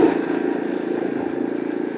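A lawn aerator's small engine runs steadily close by, a continuous mid-pitched idling drone with a fine pulsing rattle as the vibrating choke shakes, alone with no voices.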